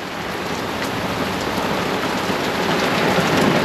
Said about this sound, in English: Listen, thunder. And the thunder rolls.